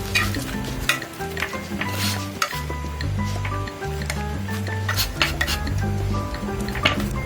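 An egg fries in a pan for Korean egg toast, with sliced bread alongside, a steady close sizzle under scraping and clinking of a utensil against the pan, with background music and no talk.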